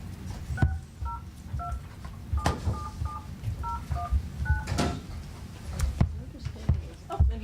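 Telephone keypad dialing for a conference call joining a board meeting: a series of short paired DTMF tones in an irregular sequence, with background room murmur and a couple of brief speech-like sounds.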